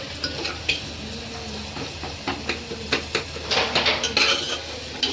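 Cluster beans and dhokli being mixed in a pan, with clattering spoon-against-metal scrapes and knocks over a steady low sizzle, busier toward the end, close and moderately loud, with no talking.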